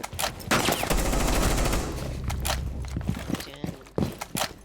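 Gunfire in the Rainbow Six Siege video game, a dense automatic burst followed by scattered sharp shots and footsteps, with a player's voice talking over parts of it.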